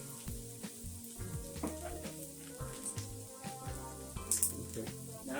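Black pepper heats in a pan for pancit, giving a soft, steady sizzle close by with light stirring taps and small crackles throughout, and no talking.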